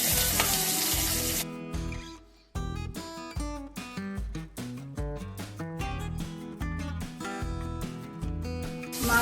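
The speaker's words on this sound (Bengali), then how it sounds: "তেলটা হয়ে গেছে, ধোঁয়া উঠছে, এবার আমি মাছগুলো ছেড়ে দেবো।" Golda prawns frying in hot, smoking mustard oil for a Bengali prawn malai curry: a loud, steady crackling sizzle that breaks off briefly near the middle, then resumes, with stirring clatter throughout.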